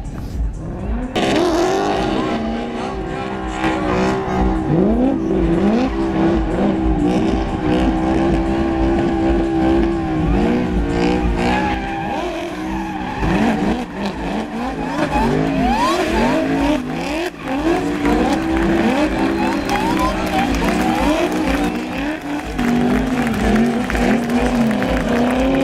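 Gymkhana cars tear around a race course at the GRiD final at the Athens Marathon in Greece, engines revving and swelling as they pass, with crowd noise and cheering mixed in over the whole stretch.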